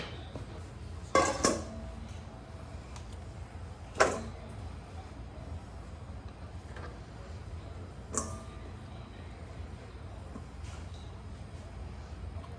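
A bowl is fetched and handled in a home kitchen while making bread and butter pickles, giving a few sharp clinks and clatters at spaced intervals over a quiet room background.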